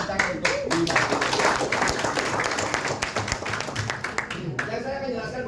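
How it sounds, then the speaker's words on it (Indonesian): Audience clapping at a product and business plan presentation event in Bandung, a dense, fairly loud patter of many hands that continues steadily throughout, with some voices mixed in. "Tepuk tangan untuk Bima."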